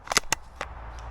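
A few sharp airsoft gun snaps fire in quick succession, then a spaced one and a faint final click. The cracks are crisp, fairly close and quiet overall.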